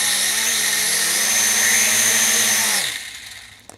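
Small drone with faulty motors, one motor not spinning, runs with a loud, steady high-pitched whirring buzz for nearly three seconds, then winds down and cuts out, leaving a faint tail with a small click near the end.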